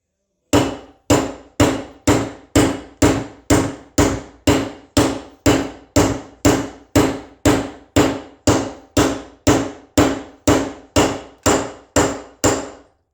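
A wheel bearing is hammered into place on a Moto Iron springer front end, with about twenty evenly spaced, loud metallic strikes, each ringing briefly before the next blow, alone without talk.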